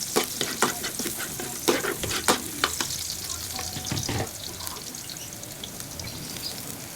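Garlic and onion sauté in a pan for adobo, with a crackling sizzle and a rapid run of sharp stirring clicks that settles into a softer, steady fry.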